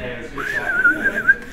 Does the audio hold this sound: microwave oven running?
no